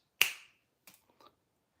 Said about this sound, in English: If I could snap my fingers